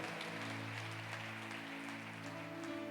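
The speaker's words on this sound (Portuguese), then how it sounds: "pode aplaudir ele bem forte" A church congregation applauds with continuous dense clapping that patters like rain, while steady keyboard chords hum underneath for the whole stretch.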